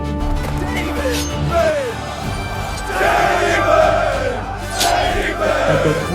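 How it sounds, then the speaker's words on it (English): Crowd of Israelites shouting and cheering as a storybook sound effect, loud surging whoops and yells in two or three swells, close and full. "The Israelites shouted and jumped with cheer."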